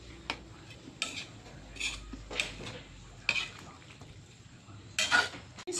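Pork igado with potatoes and carrots being stirred in a pan: sporadic close clinks and scrapes of a utensil against the metal every second or so, over a faint low sizzle.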